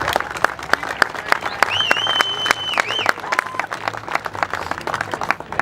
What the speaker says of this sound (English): So another round of applause for those folks.